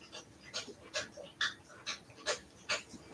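Several dogs pant in steady, rhythmic bursts about twice a second, close by and fairly quiet, after drinking water, with no talking.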